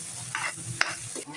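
Mung beans and pork being stirred in a pan, with a scraping, sizzling stir that swells twice and a sharp utensil clack near the middle, close and alone.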